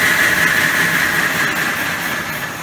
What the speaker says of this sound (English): So Simon, we've put it into reverse gear, so Sean's going to run it in reverse gear